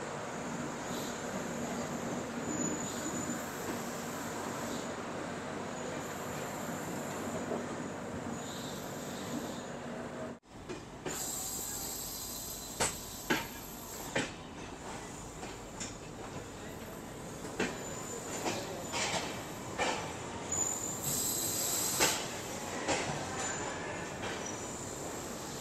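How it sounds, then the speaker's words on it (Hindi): Ramayan Express, hauled by a Ghaziabad-based WAP-7 electric locomotive, pulling out of Sultanpur railway station: a steady rolling rumble with repeated clacks and thin wheel squeals, heard from inside the train without talk. "लगभग 1 घंटा रुकने के बाद अपनी ट्रेन निकल चुकी है सुल्तानपुर रेलवे स्टेशन से।"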